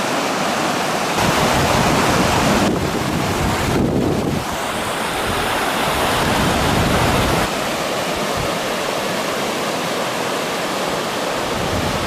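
Whitewater rapids of the Katun river roar in a loud, steady broadband rush, with gusts of wind buffeting the microphone throughout and no voices.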